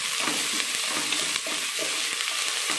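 Onions frying in oil with ginger garlic paste, a steady bright sizzle with soft scraping and stirring clicks from a spatula throughout, close and continuous with no voices.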